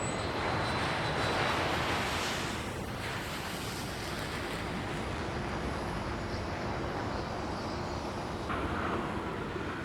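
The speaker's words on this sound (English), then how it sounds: "there's thousands of airplanes taking off and landing every day, it's still a pretty cool thing to watch" An airplane roars steadily as it takes off, a broad, loud, continuous rushing noise with wind buffeting the microphone, no voices.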